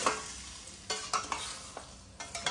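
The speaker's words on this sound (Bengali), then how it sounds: "এই চিকেনটাকে একটু ভাজা ভাজা করে নিই হালকা করে" Chicken sizzles quietly in a pan, with a few scraping stirs and soft clatters breaking through the steady frying hiss.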